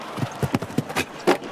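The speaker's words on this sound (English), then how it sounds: "And that's where this horse will get away from Aaron." A show jumping horse canters through a grand prix arena, hooves thudding in a quick uneven rhythm of close, distinct beats.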